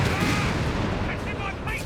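A Grant tank blowing up in Company of Heroes 3 battle, a dense rumbling blast under steady low battlefield noise, with a voice talking over it.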